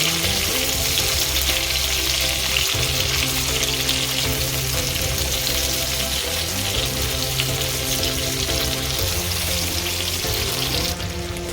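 Chopped tomatoes cook in a pan for tomato soup, giving a steady, close, continuous frying sizzle and crackle with no one talking.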